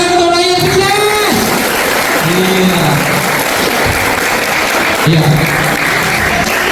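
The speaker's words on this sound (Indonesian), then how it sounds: "Tepuk tangan untuk orang yang sukses." Students applaud at a new-student orientation (MPLS) at an Indonesian school, a steady dense wash of clapping filling the whole stretch while a voice speaks briefly over it.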